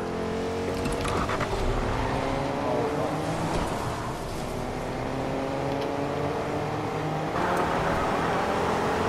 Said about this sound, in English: I'm jumping in the taxi.